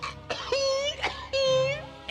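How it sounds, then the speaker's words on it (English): Cartoon character coughing and wheezing in two or three rough, strained bursts with moaning tones, close and fairly loud. "And stop that coughing before I make you eat that cigar!"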